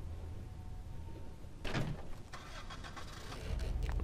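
Car door shutting in the Dead Island video game, followed by the engine starting up and settling into a steady idle, with no talking.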